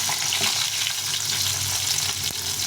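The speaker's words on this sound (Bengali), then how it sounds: "ডিমগুলোকে ভেজে নিই সেটাকে টাটকা ডিম" Duck eggs frying in a hot pan, a steady close hiss with faint crackles running throughout, no voices.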